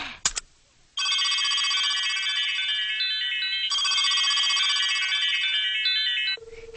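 A telephone rings out on the line while a call is placed, a loud steady electronic ringback tone in long repeated bursts, alone without talk, ending in a lower sustained tone.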